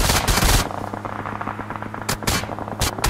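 Automatic gunfire in the PUBG Mobile video game crackles in loud, close bursts, one at the start and several quick volleys near the end, with a steady vehicle engine drone humming underneath.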